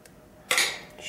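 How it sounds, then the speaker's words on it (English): Apples being spooned into a baking dish for an apple cobbler, with a quick, close clink of a spoon against the dish followed by a soft scrape. "Now we're going to take our apples and we're just going to spoon them"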